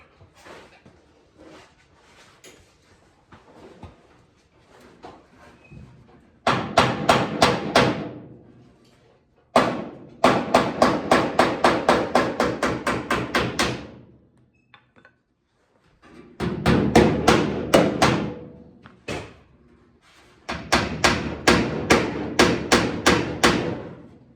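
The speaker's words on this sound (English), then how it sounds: "And for that, I'm gonna use a dolly hammer." Rapid, ringing metallic hammer blows from a dolly hammer on the sheet-metal fender of a 1966 VW Beetle come in long bursts of steady strikes, separated by short pauses, close and loud.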